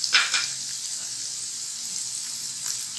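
Coriander and crushed chili hitting hot oil in a pan while making khagina, giving a soft continuous sizzle and hiss with a couple of brief crackling bursts at the start, no talking.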